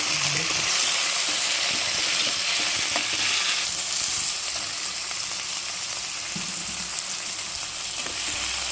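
Onions sizzle and fry in a pan while being sautéed for a Coimbatore dal ball curry, giving a steady, loud hiss with occasional stirring scrapes throughout.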